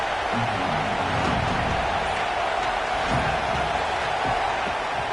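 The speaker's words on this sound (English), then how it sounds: "Big 3rd down as the crowd gets behind this defense." A stadium crowd cheers in the College Football 26 video game, a steady, dense roar that holds at an even level throughout with no clear breaks.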